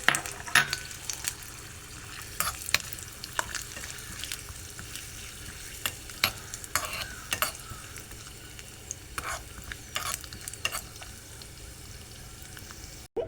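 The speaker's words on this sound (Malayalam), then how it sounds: "ഇനി നമുക്ക് അണ്ടിപ്പരിപ്പ് വറുത്ത് എടുക്കാം." Cashew nuts frying in a pan for coconut rice, a steady sizzle broken by repeated sharp scrapes and clinks as they are stirred, close up, with no talking.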